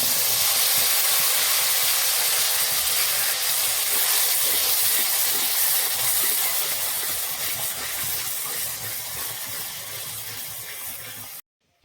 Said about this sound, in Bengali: আমি ফেটিয়ে রাখা মশলাটা এবার দিয়ে দিচ্ছি।